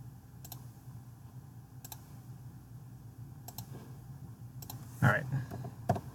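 Mouse clicks in CAD software, sparse sharp ticks spaced every second or so, close and quiet, with a slightly louder cluster of clicks near the end over low room hum.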